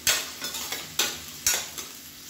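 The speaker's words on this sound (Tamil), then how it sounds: "கொஞ்சம் வெங்காயம் நல்லா வதங்கட்டும்." Onions sauté in hot oil for biryani, a steady sizzle broken by several sharp scraping strokes of a spoon or spatula stirring the pan, close and loud with no talking.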